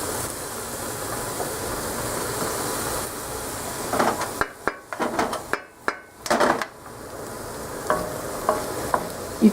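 Celery and onions fry in oil in a pan for spaghetti sauce, a steady close sizzle with pieces pushed around, then a few heavier knocks and scrapes as the pan is handled, fading back to sizzling.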